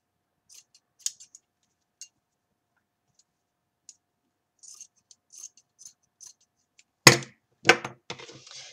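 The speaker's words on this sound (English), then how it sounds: "Let me cut these pieces off here." Scissors snip pieces off a Marie Antoinette mask: a string of faint, scattered clicks and short cuts, then a louder burst of crisp snipping and rustling near the end.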